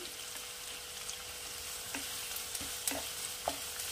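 Raw pumpkin and dried shrimp frying lightly in a pan over a high gas flame, a steady soft sizzle with occasional spatula scrapes and taps.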